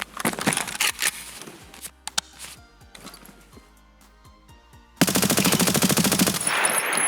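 Escape From Tarkov AS VAL rifle fired in sustained uncontrolled bursts, a rapid string of suppressed cracks with brief pauses, then a sudden loud wash of dense noise during the final seconds.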